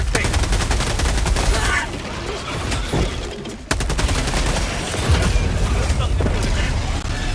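A Penetrator rifle fires in the video game Helldivers with rapid, loud bursts of close gunfire, a dense run of repeated shots that pauses briefly and then starts again.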